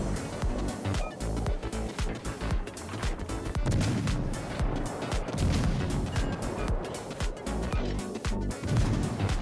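Naval gunfire with high-explosive shells in the World of Warships: Legends game, dense booming salvos and blasts repeating over a loud continuous battle rumble.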